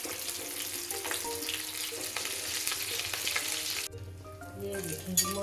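Vegetable rolls frying in hot oil give a steady, close sizzle that runs unbroken for about four seconds, then drops to a quieter, lower bubbling with a few scattered pops.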